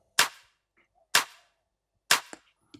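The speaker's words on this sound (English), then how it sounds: "I layered a couple claps" Layered clap samples in a house track, three sharp crisp claps at an even, spaced rhythm, with a faint softer hit trailing at the end; nothing else plays.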